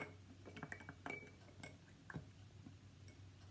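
A spoon stirring salt water in a glass during a salinity and density experiment, giving a few light clinks and taps against the glass, faint and close, with no talk.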